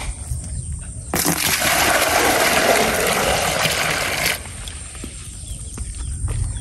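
Water from a newly dug shallow deep well gushes loudly for about three seconds, a steady broadband rush that starts and stops abruptly over quieter outdoor background noise.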